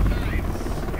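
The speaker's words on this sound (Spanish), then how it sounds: "Aquí voy a tener pedos con el helicóptero otra vez" A helicopter in the video game Dark Sector drones steadily as a dense, low rotor rumble, loud and close throughout, with a voice talking over it.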